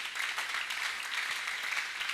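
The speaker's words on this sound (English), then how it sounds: "clap like you understand" An audience clapping during a talk, a steady and moderately loud patter of many hands that holds for the whole stretch.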